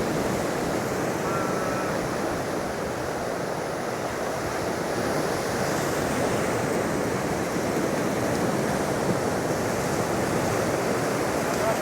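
Dense, continuous roar of ocean surf on an Aruba beach after a storm, broad and steady with wind noise mixed in, no distinct individual breaks and no voices.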